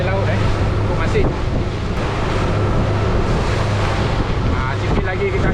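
Steady wind buffeting the microphone and the rush of sea waves around a small boat out on open water, a continuous loud roar with a low engine hum underneath and no clear talk.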